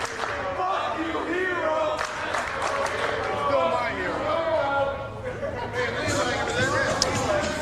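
A wrestling crowd at an independent show in Midlothian applauds and cheers as a champion is greeted, a steady roar of clapping and voices beneath a commentator talking over it.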